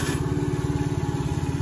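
A 2023 Mondial 50 Wing moped engine runs at idle just after starting, a steady close putter with an even rapid pulse and no talk over it.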